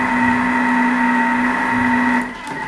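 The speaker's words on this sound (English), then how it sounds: "we're just going to blend that up to like a couscous" A blender whirs loudly and steadily as it chops a mint salad base down to a couscous-like texture, then the motor cuts off abruptly near the end, leaving a fading hum.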